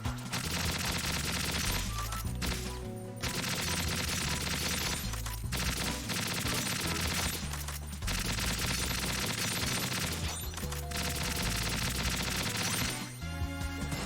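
Sustained assault rifle fire from Metal Gear Solid 2 VR Missions rattles in long, loud automatic bursts, broken by a few short pauses between volleys, with no voices over it.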